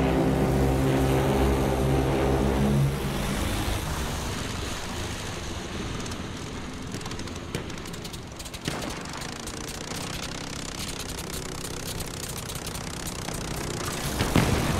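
A propeller aircraft in Battlefield 1 multiplayer on the Empire's Edge map drones loudly at first, then the engine roar fades into a busy mix of distant battle noise and rumble.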